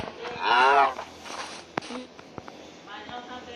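A cow lets out a loud, drawn-out moo, followed by quieter rustling and faint movement, with a fainter low call near the end.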